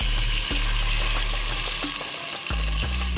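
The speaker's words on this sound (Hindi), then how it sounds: "पानी डालेंगे, बिस्मिल्लाह" Water pours into a hot pot of aloo gosht with basmati rice, a loud continuous sizzling rush with a low hum underneath and a few brief breaks in the flow.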